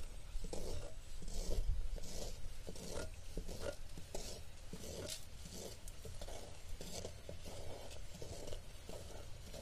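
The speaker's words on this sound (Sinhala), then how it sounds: "දැන් හොඳට උතුරගෙන එනවා මේ මේ විදිහට හොඳට හැඳි ගන්න" A spoon stirs a bubbling lime pickle mixture in a pot, giving repeated close scraping strokes in an uneven rhythm over a soft simmering sizzle, with no talking.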